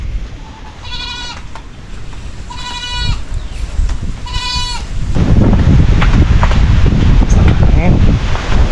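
Three distinct, harmonic goat bleats ring out close to the microphone at regular intervals during typhoon Pepito, then roaring wind and mic buffeting swell and take over the last few seconds.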